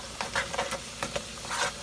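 Swai fish fries in butter in a pan, giving a steady close sizzle with soft crackling bursts and no voices.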